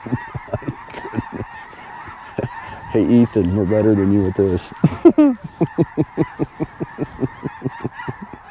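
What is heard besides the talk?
snow geese honking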